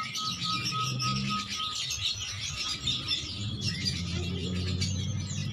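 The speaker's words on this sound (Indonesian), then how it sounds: "Makanya burung ini disebut dengan burung tepus leher putih." A white-necked babbler on Java calls in a series of short, repeated chirps and whistled notes at close range, with no talking.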